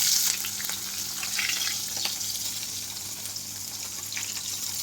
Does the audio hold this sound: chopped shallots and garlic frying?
yes